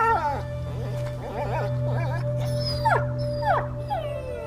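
A dog in A Plague Tale: Innocence whimpers and yelps in a string of high, sliding cries, then two sharper rising howls, close and fairly loud over a low steady drone.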